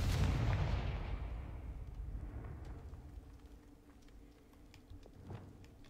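Fiery Confringo blast spell from the Hogwarts Legacy video game: one loud burst at the start that rolls off into a fading rumble, with faint clicks and a smaller thump near the end.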